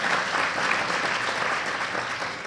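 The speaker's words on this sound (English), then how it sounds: "Round of applause." A dinner audience at an elementary school parent event gives a steady, full round of applause, dense clapping with no break throughout.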